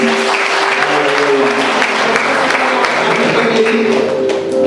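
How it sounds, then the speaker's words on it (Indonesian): A church congregation at Abbalove Kelapa Gading claps together for those praying, steady applause over a sustained musical backing that continues throughout. "Kita beri tepuk tangan yang berdoa"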